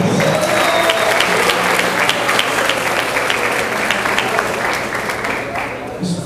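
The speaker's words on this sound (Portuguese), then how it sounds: "Vamos recebê-los com uma salva de palmas" Sustained audience applause for a judo team at a martial arts exhibition, a dense steady wash of many hands clapping that holds for several seconds and tapers slightly, with faint voices mixed underneath.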